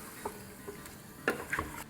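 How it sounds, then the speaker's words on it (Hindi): Goat meat browns in a pot with spices for a Bakra Eid boti kabab gosht masala, giving a steady low sizzle broken by a few light clicks and stirring taps. "यह हमारा गोश्त भुन रहा है"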